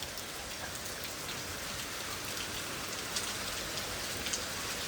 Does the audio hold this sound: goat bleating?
no